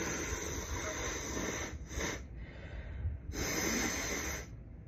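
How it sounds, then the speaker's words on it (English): A woman with morning allergies blows her nose in two forceful, breathy bursts, close and rushing, separated by a short pause against a quiet background. "let me blow my nose real quick"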